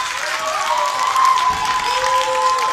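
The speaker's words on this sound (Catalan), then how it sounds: "Un aplaudiment" Audience applause at a Catalan school reading event, a steady spread of clapping filling the room for the whole stretch, with a faint tonal hum running underneath.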